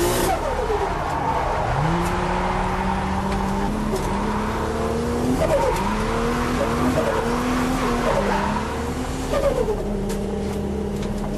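A car drifts in a UK drift challenge with sustained tyre squeal and engine revving, long wavering screeches rising and falling over a continuous loud roar.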